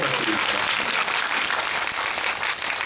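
A movie premiere Q&A audience at a Megabox cinema screening of the film Hunt breaks into dense, steady applause, loud and sustained throughout with no pauses.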